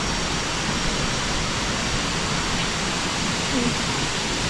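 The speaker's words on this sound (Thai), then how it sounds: "ถึงแล้วน้ำตกตาโท" Ta To waterfall in the rainy season sends up a steady, dense roar of rushing water that fills the whole clip without letting up.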